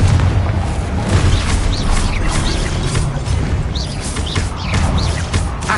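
A Confringo fire spell blasting in Hogwarts Legacy, a loud continuous roar of booming explosions and crackling impacts with no talk.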